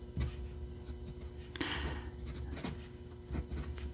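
Wing Sung 601A fountain pen with a #5 steel nib writing on paper, soft close scratchy strokes in short bursts, quiet and without talking.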